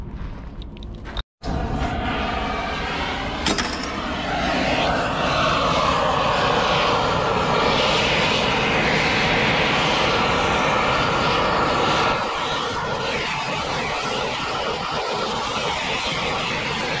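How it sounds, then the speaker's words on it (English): A torch heats the bearing inner race of a Cat 735 articulated truck's planetary, giving a loud, steady roaring hiss that runs unbroken apart from one brief cutout near the start. "I'm going to heat it up with the torch, the inner race on it"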